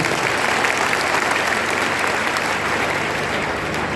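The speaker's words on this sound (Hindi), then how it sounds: "एक बार फिर से कुछ देर जोरदार तालियां बजा दीजिए।" A crowd applauds loudly and steadily, dense clapping filling the whole stretch without a break.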